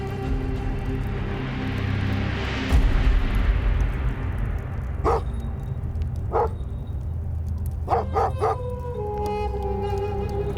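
Big guard dogs protecting a shepherd's flock at night in a Middle Eastern desert bark in short separate bursts, a few single barks then a quick cluster of three, over a steady low rumbling background.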